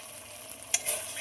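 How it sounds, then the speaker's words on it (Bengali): A soft, steady sizzle of spices frying in oil for vegetarian chilli paneer, with a brief scrape of a spatula stirring through the pan. "খুব ভালোভাবে নেড়ে দেবো ভাজার জন্য"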